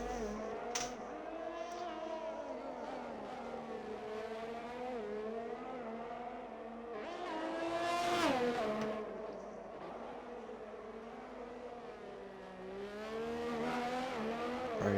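An F1 video game race car with a customer Ferrari power unit in an Alfa Romeo screams continuously at high revs through a street circuit in Azerbaijan, its pitch rising and dropping with gear shifts and throttle over a steady, loud stretch.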